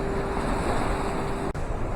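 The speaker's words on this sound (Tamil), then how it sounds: "இந்த கோவிலுக்கு முன்னாடி பார்த்தீங்களா தண்ணியோட வேகம் எப்படி இருக்குது, ஃபோர்ஸு பயங்கரமாக இருக்குங்க இந்த இடத்துல" Fast, forceful river water rushes in front of the Amaravathi Amman temple below Amaravathi dam near Udumalaipettai, Tamil Nadu, a loud, steady, close roar broken by one brief thump.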